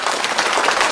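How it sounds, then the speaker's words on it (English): Applause from a crowd, a brief burst of dense, even clapping that sounds like a canned or distant clapping effect, steady and moderately loud throughout with no voices over it. "a round of applause for Big Bank"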